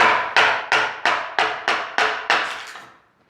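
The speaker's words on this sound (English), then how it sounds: "you use a wooden mallet on chisels, especially wooden ones, to keep from flaring over the end" Eight sharp, evenly spaced blows of a wooden mallet driving a chisel into wood, close and loud, each strike with a short woody decay, with no talk.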